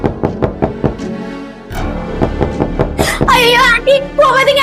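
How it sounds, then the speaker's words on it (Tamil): Firm knocks strike a door in a steady run during a comic skit, each hit loud and close. A wailing, moaning voice takes over near the end. "யாரது கதை தட்டுறது?"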